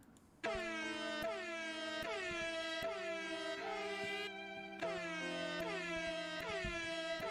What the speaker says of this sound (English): Sad air horn.